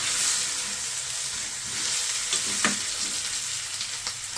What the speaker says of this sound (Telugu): దాంట్లో కాకరకాయ వేసి కలిపేస్తున్నారు